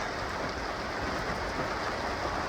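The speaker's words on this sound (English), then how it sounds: "Bit of rain." Steady rain falls around a boat in the Whitsundays, a dense, even hiss of drops on surfaces with no pauses or voices, moderately loud and close.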